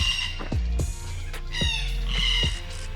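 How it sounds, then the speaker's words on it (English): An emu at a wildlife park on an outback tour, giving a few harsh squawking calls in quick succession, close and fairly loud with some background noise. "Old man emu there."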